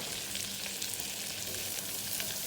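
Curry leaves, green chillies and sliced onions fry in butter in a pan for a Kerala-style chicken stew, giving a constant close, even sizzle with no talk.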